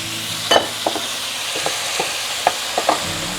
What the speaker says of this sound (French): Je vais ensuite rajouter les tomates.